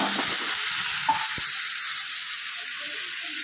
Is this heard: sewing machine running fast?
no